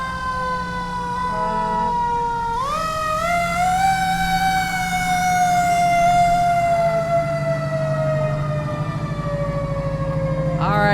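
A fire department ladder truck's siren at the Village of Mamaroneck Fireman's Parade, loud and close, winding up and holding a long wailing pitch over rumbling engine noise, with a voice talking faintly underneath.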